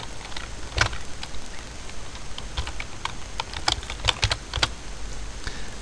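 Typing on a computer keyboard while entering a heading into an HTML web page, a soft steady patter of key clicks with a few sharper taps, close by and with no talking.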